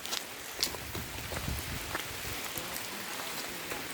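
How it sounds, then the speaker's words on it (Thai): Steady rain patters continuously on a surface, with scattered drips and small taps across the whole stretch and no voices. "ฝนก็ ตก"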